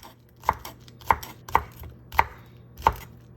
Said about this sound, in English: I'm going to cut along at 2 places and then chop them.